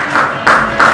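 Audience clapping at a press conference for Podcast Hunt 2024, a loud, close burst of hand claps swelling in three quick waves within a second.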